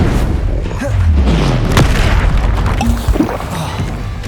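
Confringo fire spell explosions from Hogwarts Legacy, a loud, dense series of booming blasts with swooping magical whooshes layered over continuous combat rumble, no gaps of quiet throughout.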